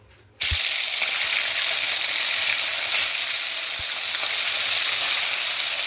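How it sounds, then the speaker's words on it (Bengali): Fish pieces drop into hot oil in a kadai and burst into a loud, continuous sizzle that holds steady and close, with faint pops and spatters. "তেলটা আমার গরম হয়ে গেছে, এবার মাছগুলো আমি ভেজে নেব।"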